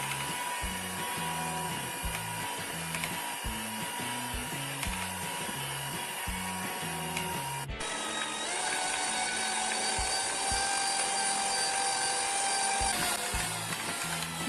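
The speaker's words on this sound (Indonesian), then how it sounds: "Kemudian kita mixer selama 15 menit sampai kalis dan elastis" Electric stand mixer kneading sweet bread dough for srikaya buns, a steady loud motor whine with a rhythmic low thumping as the dough slaps around the bowl, the pitch shifting up partway through as the speed is raised.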